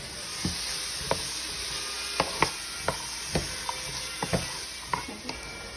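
Red and green peppers, garlic and white onion sauté for Cuban-style chicken fricassee, with a constant close sizzle and about a dozen sharp clicks of a utensil stirring against the pan.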